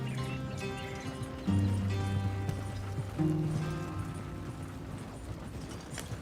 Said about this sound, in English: Trying to get these horses to go a little faster.